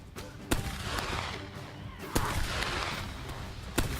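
Soldiers in a war video game open fire at will, a volley of sharp gunshot cracks at intervals over a rumbling battlefield background, loud and close.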